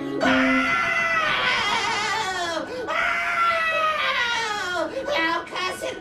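Mother Gothel lets out long, wavering, high-pitched shrieks as she withers into an old hag, two sustained wailing cries that crack and sob, loud and close, with no other talk.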